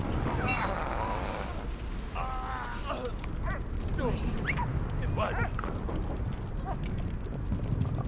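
A dog barks and whimpers in the World War I video game Valiant Hearts, with short yips over a steady game soundscape and a player talking over it throughout.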